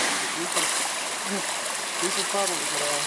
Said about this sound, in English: Nice little waterfall stream.